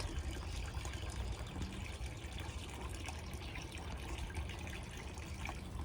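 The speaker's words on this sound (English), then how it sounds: "the sound of water helps us to focus in on the moment." Water trickles steadily in a spring garden, a soft continuous wash of gentle flow with no break, fairly quiet and alone.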